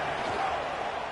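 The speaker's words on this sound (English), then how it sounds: "This crowd trying to make life miserable for this offense." A football stadium crowd at a Virginia versus Miami college game roars in a continuous, dense wash of noise that stays loud and unbroken throughout.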